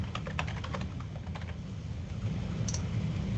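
Someone typing names into a computer keyboard, a quick burst of light key clicks that thins out to a few taps, heard close over a low steady room hum.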